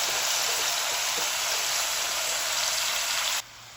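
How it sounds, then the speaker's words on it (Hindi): Turnip peels frying in spices in a pan give a steady, loud broadband sizzle with no talk, dropping abruptly quieter near the end. "अब इनकी भुनाई करेंगे 3 से 4 मिनट"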